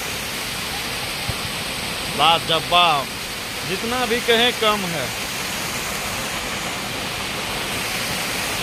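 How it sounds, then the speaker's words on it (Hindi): A waterfall in Darjeeling gives a steady broadband roar that fills the whole clip, while a person speaks briefly over it partway through. "बहुत ही कमाल का जगह है ये झरना"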